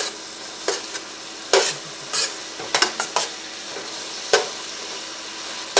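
Onions for corn chowder sauté in a pot, a soft background sizzle broken by several sharp stirring scrapes and clinks of a utensil against the pot.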